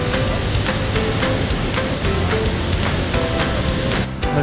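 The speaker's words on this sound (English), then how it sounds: "it's like a really big waterfall as well" A loud, constant roar of rushing, falling water at Iguazu Falls fills the whole clip, dense and unbroken, with no voices.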